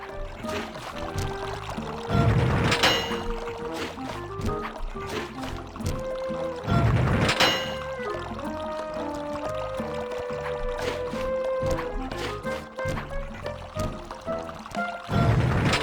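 Water rushing through valves in the Sly 2: Band of Thieves video game, a steady loud gushing pour with periodic heavier surges, mixed with game music and effects, no talk.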